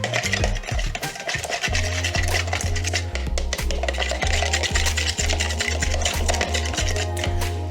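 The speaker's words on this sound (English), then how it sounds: "go ahead and grab your spoon and just get that nice and mixed up" A spoon stirs keto chicken finger mixture in a bowl, scraping and rubbing steadily against the sides with repeated clinking strokes, close and fairly loud, with no voices.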